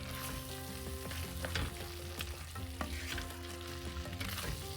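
Kerala-style pepper chicken frying dry in a pan while being stirred, a dense, close sizzle and crackle running throughout with tonal background music beneath it.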